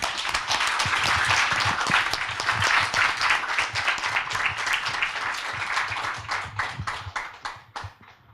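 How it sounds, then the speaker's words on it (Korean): Sustained applause from an audience at a book talk event, dense clapping filling the room at steady loudness, then thinning toward the end into scattered claps. "큰 박수 보내주셔서 감사합니다."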